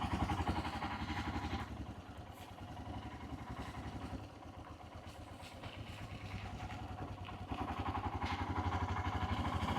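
A Royal Enfield Himalayan 411 motorcycle thrums with a steady low, pulsing single-cylinder engine note, faint and continuous, with slight rises and dips in loudness and some rattling.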